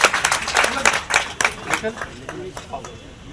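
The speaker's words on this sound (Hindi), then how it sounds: "उनका भी जोरदार तालियों से स्वागत।" Crowd applause at a road show during an election campaign event, scattered clapping that starts strong and thins out over a few seconds, with some voices and murmur mixed in.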